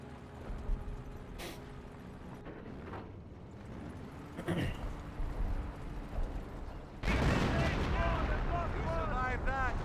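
Artillery fire in the World War II strategy game Company of Heroes, with distant booms and rumbling blasts, then a louder stretch of battle noise, and someone commentating over it.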